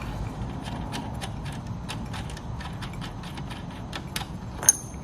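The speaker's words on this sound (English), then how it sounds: "Take your wrench back off of it, set it to the side, pull your nut off of it." Wrench and nut taken off a Husqvarna 190 cc 6.75 HP wheeled weed wacker engine, faint metallic clicks and light jangles scattered over a low steady background hum, nearby and without speech.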